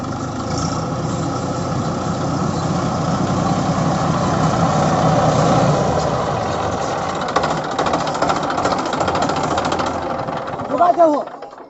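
A tractor engine chugs steadily nearby in a farm field with a low, rattling drone, and people talk over it near the end.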